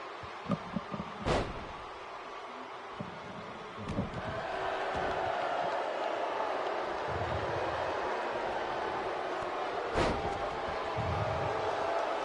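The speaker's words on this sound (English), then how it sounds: "This crowd very torn here. Lots of boos and then probably just the same number of cheers for Michael Blaze in this one." Arena crowd in the wrestling video game WWE 2K19 rumbles with mixed boos and cheers, a steady broad roar under sharp impact thuds and slams from the ring.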